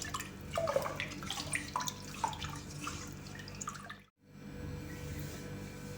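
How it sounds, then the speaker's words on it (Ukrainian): Salt brine made with rock salt is poured over cucumbers for pickling, trickling and splashing softly, breaking off briefly before the stream resumes. "І заливаємо розсолом огірки."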